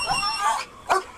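A police dog at an arrest scene barks and yips in a few short, sharp bursts at moderate distance, with no other sounds around.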